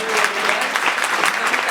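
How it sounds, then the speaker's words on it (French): A short burst of strong, close applause from an audience at a regional palliative care gathering, many hands clapping in a full, bright wash with faint voices mixed in. "je pense qu'on peut les applaudir très fort"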